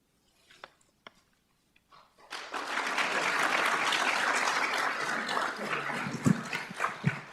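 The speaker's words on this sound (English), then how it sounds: "Well, thanks for the applause." Audience applause breaks out at a joint fire academy graduation ceremony, starting after a few scattered claps and swelling into a sustained, dense round of clapping that tapers slightly near the end.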